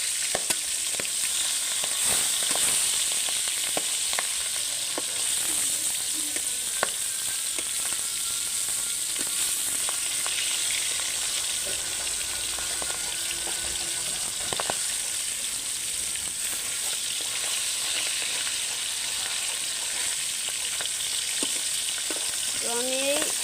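Several pieces of pangas fish sizzle in hot oil in a black wok, a continuous close frying hiss with frequent spits and crackles and occasional stirring scrapes, with no voices.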